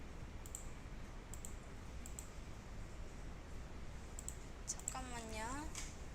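A computer mouse clicks in Photoshop in a quiet room: a handful of crisp, separate clicks spaced a second or so apart, with a voice talking briefly near the end.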